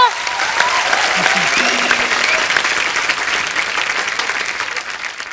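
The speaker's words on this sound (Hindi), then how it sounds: "चलो अभी फिरंगी के लिए जोरदार तालियां बजा दो।" Studio audience at a Hindi comedy show breaks into loud, sustained applause that fades slightly toward the end, with some voices mixed in.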